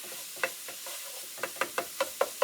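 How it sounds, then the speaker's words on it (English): Food sizzles in a hot pan under a steady hiss. A utensil scrapes and stirs in a series of sharp, close, rhythmic taps, and no one talks. "Now I know this is frying."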